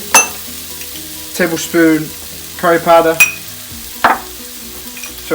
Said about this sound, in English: Give this a nice stir, watching your pan doesn't get too hot